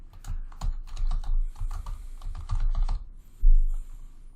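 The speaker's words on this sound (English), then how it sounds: "Okay, so we'll type that into the ID." Rapid typing on a computer keyboard while entering a record for a 2020 Ford Transit into vehicle management software, the key clicks close and steady in quick bursts, with one louder thump near the end.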